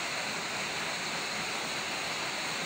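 Blue Hole Falls, a waterfall, pours in a constant broadband rush of water, steady and unbroken throughout, with no voices.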